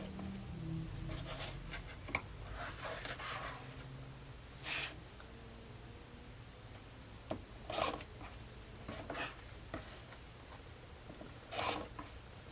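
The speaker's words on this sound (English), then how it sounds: "Now you can cut this off with scissors" Quiet scissors snip through quilting fabric in a few separated bursts, soft crisp cuts spaced a couple of seconds apart against a hushed background.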